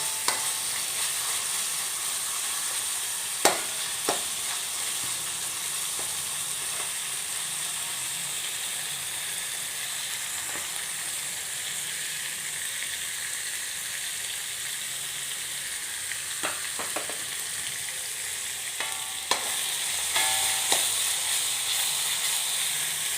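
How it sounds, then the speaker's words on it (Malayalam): Onions sizzle steadily in a frying pan with a constant close hiss, broken now and then by brief scrapes and clicks of stirring. "അത് നല്ലവണ്ണം ഒന്ന് മൂത്ത് വരട്ടെ സവാളയൊക്കെ, എന്നാലേ ആ ഒരു സ്മെല്ല് കിട്ടത്തുള്ളൂ നമുക്ക്"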